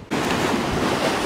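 Sea waves crash against rocks in a loud, continuous rushing wash that starts abruptly, with wind buffeting the microphone.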